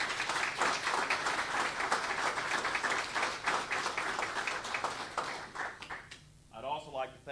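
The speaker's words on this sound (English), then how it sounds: "Michael Thackerson, I'd like to give you a big round of applause and thank you for making this happen" A room at a college football media day gives a round of applause, sustained clapping from a crowd that fades out toward the end, with a voice talking over it.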